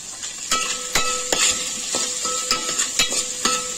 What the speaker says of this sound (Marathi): त्याच्यामध्ये उभा चिरलेला कांदा आपण टाकून घेणार आहोत।